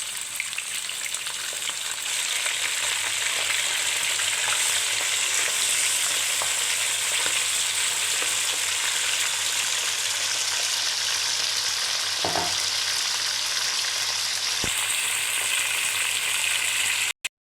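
Chicken pieces hitting hot fat in a pan for badami korma, a loud, dense, continuous sizzle and crackle that swells up after the first seconds, with a couple of brief utensil knocks, close and with no voice.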